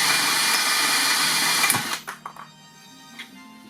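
A power drill whines steadily at high pitch while drilling holes in metal, then cuts off, leaving a few light clicks and taps over a low hum.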